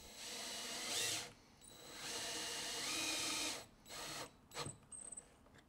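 A drill drives a screw into a wooden piece when extending a Hot Wheels Super 6 Lane Raceway, two sustained whirring runs followed by short ratcheting bursts, faint and close.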